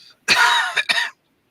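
A single close, harsh cough followed quickly by two shorter coughing bursts, loud and clear against silence, with no talking.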